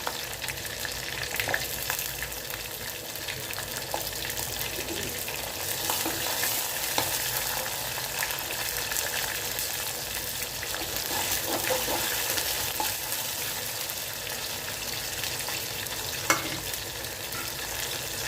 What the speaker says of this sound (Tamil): நல்ல வெங்காயம் வதங்கி வரட்டும்.